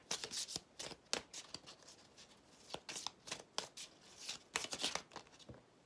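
Tarot cards are shuffled and cut close up, in quick bursts of crisp riffling and flicking with short pauses between, quiet and without talk.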